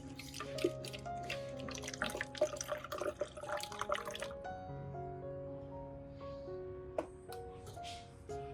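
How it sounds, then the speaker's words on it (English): Clean water trickles and drips onto a potted orchid set inside a container, close and soft, with gentle dripping and a brief splash near the end, heard alone without talk. "Then, I'll add a small amount of clean water."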